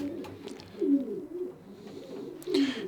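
Pigeons coo in low, rolling bursts, a few soft repeated calls close by in a quiet room.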